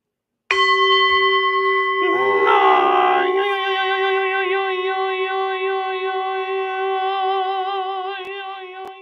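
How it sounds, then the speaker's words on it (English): A single bell is struck once, loud and close, then rings on in a long clear tone that slowly fades over several seconds, with a brief burst of indistinct background noise early on. "you should ring the bell."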